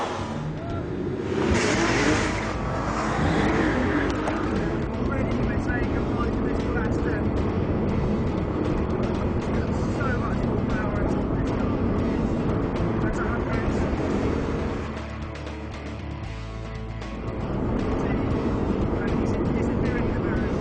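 An Aston Martin V12 Vantage races a Porsche 911 GT2, giving a continuous loud engine roar with heavy wind rush heard from inside the car, steady throughout with a brief dip in the middle, and a voice talking over it.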